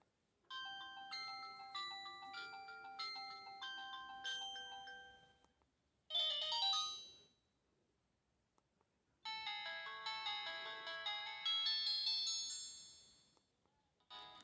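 Melodic polyphonic ringtones from a cheap Samsung E1200 mobile phone, bright and piercing: a stepped chiming tune, then a short burst, a pause and another longer jingling melody, loud and alone with no talking.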